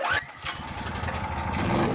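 Small farm engine started on choke, firing up after a brief crank and then settling into a steady, fairly close running chug with slight revving, heard without talk.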